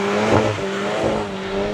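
Volkswagen Golf GTI hot hatch lapping Winton race track, engine note droning steadily under load with a brief surge and faint tyre noise, heard alone without talk.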